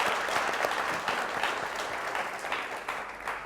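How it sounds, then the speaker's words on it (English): Audience at a panel discussion gives a round of applause, dense continuous clapping from a crowd that holds steady, then tapers slightly. "A round of applause for her again."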